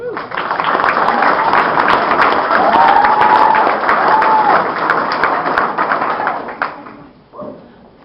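A crowd claps steadily for several seconds, dense broadband applause that tapers off near the end.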